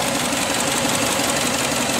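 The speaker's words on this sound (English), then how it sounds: "I can feel exhaust pulses now in this pipe." A Subaru engine runs steadily, heard up close near the EGR pipe with its exhaust pulses, a constant dense mechanical drone with a faint rhythmic knock underneath and no voices.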